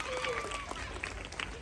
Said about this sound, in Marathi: जोरात टाळ्या वाजवा वहिनीसाठी.